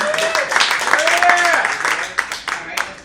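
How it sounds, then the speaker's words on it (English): Applause and scattered claps from a small audience at a local stand-up comedy show, a steady wash of clapping with voices and whoops mixed in, tapering off unevenly toward the end. "So give yourselves a round of applause."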